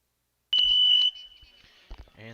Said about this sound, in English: And there's the buzzer to bring it out.